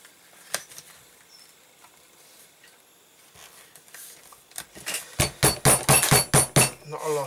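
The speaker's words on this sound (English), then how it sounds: "Just going to take my cobbler's hammer." A cobbler's hammer taps on leather to set a crease in a custom tooled leather wallet, with a quick run of close, light, evenly spaced taps after a quiet stretch of faint handling sounds.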